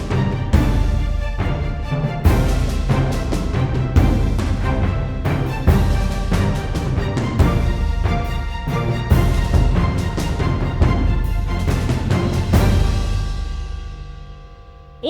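Orchestral track driven by booming low taiko hits and bass drum, punctuated by sharp accented cello and bass string stabs in a steady rhythm, ending on a sustained ringing chord.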